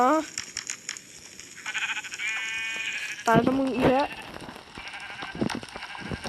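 A goat in a video game bleats in several wavering, nasal cries, loud and close amid game sounds, with people talking excitedly over it.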